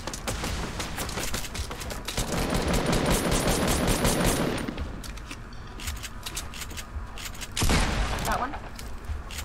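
Rapid gunfire from a Fortnite duos match crackles in dense bursts through most of the stretch, loud and close, with a sharp blast near the end and players talking over it.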